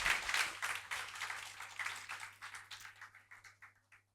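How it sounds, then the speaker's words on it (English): Round of applause from an audience at a sports jersey unveiling event, many hands clapping densely at first and then thinning out and fading to silence over about four seconds. "So one round of applause for all the HIPRs."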